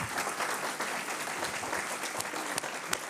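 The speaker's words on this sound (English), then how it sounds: "can you give the panel a round of applause?" Dense audience applause for a conference panel fills the whole stretch, steady and fairly loud, with a few sharper individual claps standing out near the end and no talking over it.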